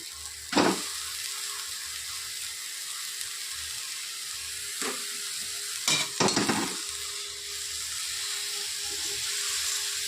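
Spices added and stirred into a frying pan for banana flower curry: a steady sizzle throughout, broken by a few sharp scraping stirs of a spoon, close and without talk.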